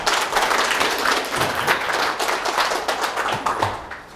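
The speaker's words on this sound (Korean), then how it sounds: "함께 힘찬 박수로 맞이해 주시기 바랍니다." Steady applause from an audience welcoming a National Assembly member to the podium at a waste-policy forum, dense clapping that stays fairly even throughout with no talk over it.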